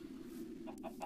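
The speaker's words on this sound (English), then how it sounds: "wow, there's a lot of chickens up here." Video game chickens give a few quick, faint clucks near the end, over a low steady hum.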